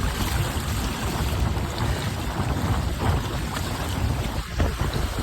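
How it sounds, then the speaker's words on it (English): Water rushes and splashes steadily as spray shoots up from the stern of a moving catamaran, mixed with wind buffeting the microphone. "That's a problem right there, all that water shooting up."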